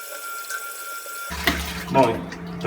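Room-temperature water poured into a home-brewing pot after a mash out, a broad splashing rush starting abruptly and continuing with uneven surges, close and moderately loud.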